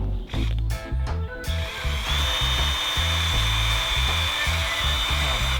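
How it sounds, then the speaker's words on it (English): A power drill whines steadily at close range, its pitch wavering as it bores a hole through the top of a piece of bamboo, with a low rhythmic thumping underneath. "we're going to drill a hole in the top."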